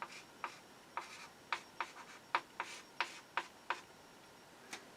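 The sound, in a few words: writing out a math equation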